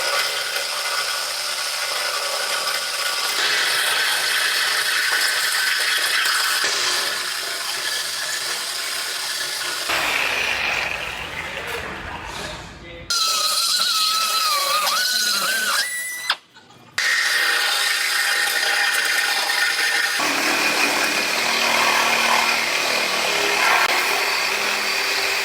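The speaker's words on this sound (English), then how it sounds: "I'm gonna cut this frame right here on both sides" Loud power tool grinding and cutting through a Ford F150 truck frame in a body shop, a harsh broadband whine running steadily with brief pauses and a sharp break mid-cut before resuming.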